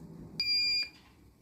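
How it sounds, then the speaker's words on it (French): A single steady electronic beep, high and clear, lasting about half a second over a faint background hum, from an Easy Fry Smart air fryer signalling that roast chicken is done. "l'appareil vient de biper, donc le poulet doit être cuit"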